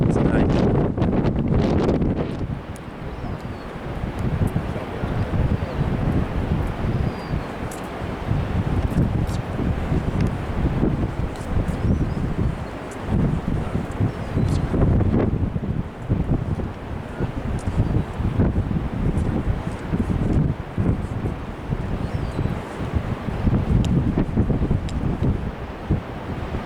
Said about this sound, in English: It is very, very windy tonight.